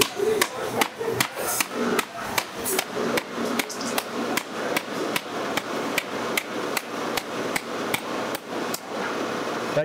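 A kitchen knife repeatedly whacks a whole coconut to crack its shell, giving a steady series of sharp, close knocks about every half second, with a faint voice in the background early on.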